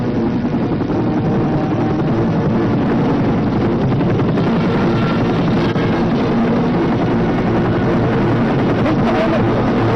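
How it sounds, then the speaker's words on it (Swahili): A loud, steady helicopter drone with a low rotor thrum continues without a break. "helikopta amekuja kunichukua"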